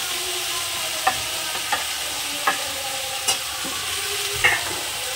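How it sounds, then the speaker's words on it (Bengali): Fried potatoes and vegetable stalks sizzle in a pan for a fish-head dish with greens, a steady frying hiss broken by about five sharp spoon scrapes and clinks at irregular intervals. "আবার একটু হালকা নাড়াচাড়া করে নেব।"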